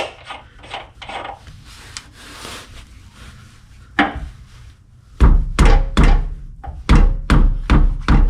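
A socket is used to tap a subframe collar bolt into place on a Nissan G35/350Z, beginning with soft scraping and rubbing and then giving way to a run of loud, close, sharp knocks in an irregular rhythm.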